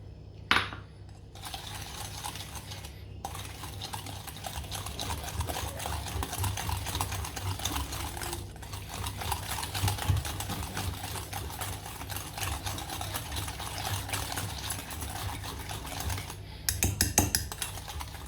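Bun batter for Paparotti buns being mixed after coffee is added, a steady close scraping and tapping of utensil against bowl running throughout at moderate level.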